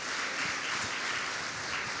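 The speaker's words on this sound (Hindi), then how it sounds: "ताली बजाइए उस बहन के लिए।" Congregation at a worship service applauds, a steady, even patter of many hands clapping at a distance, unbroken for two seconds.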